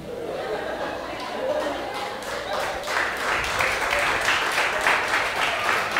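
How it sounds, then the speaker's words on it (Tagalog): Church congregation clapping during a New Year's Eve service, starting softer and swelling into louder, denser applause, with murmuring and a few chuckles mixed in. "Parang pinakamalakas ang palakpak niyo doon sa last."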